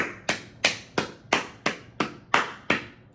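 A man claps his hands nine times in a steady rhythm, each clap sharp and close, with no talking.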